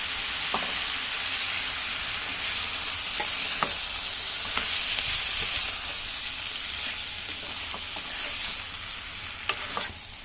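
Mixed vegetables with soybean chunks fry in a pan as ginger, cumin and green chili paste goes in, giving a steady close sizzle and hiss broken by scattered clicks and scrapes of stirring.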